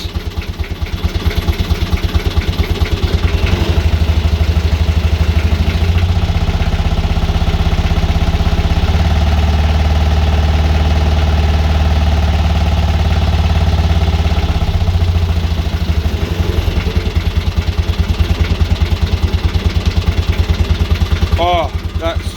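A BMC 1.8 diesel engine idling loudly and steadily close by, its low rumble swelling with a few revs before settling back.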